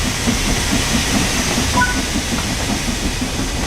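A steam locomotive in the video game Train Sim World 4 picks up speed, giving a loud continuous hiss and rumble with faint rhythmic chuffing and no talk.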